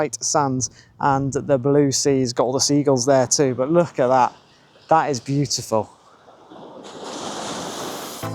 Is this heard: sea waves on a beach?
yes